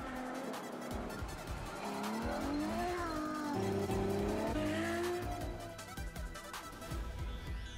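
A Ferrari FF supercar drives hard, its engine note rising and falling through several pitch sweeps with loud tire squeal and skidding, close and continuous.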